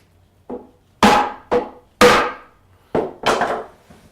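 A hammer strikes a chisel set against a wooden beam, giving six sharp, loud, close knocks in an uneven rhythm with short ringing tails, the opening blow lighter than the rest.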